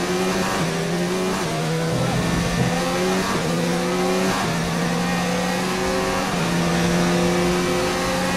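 A Formula 1 race car engine in the F1 2019 racing game drones loudly and steadily throughout, with rising and falling pitch sweeps as it shifts through gears and revs, a constant close engine roar without any talk.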